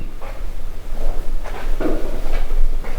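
A door opening or closing in a woodworking shop, heard as a few soft knocks and clunks over a steady room hum.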